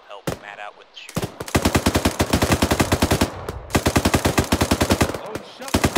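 Rapid automatic gunfire rattles in close, loud bursts in a military video game, with short pauses between the strings of shots and no voices over them.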